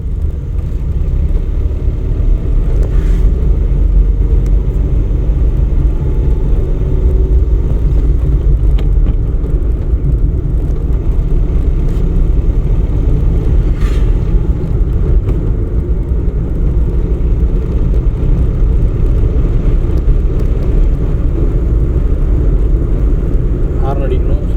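A car in second gear during a driving lesson on a rural road gives a steady, loud low engine drone and road rumble throughout, with voices talking inside the cabin.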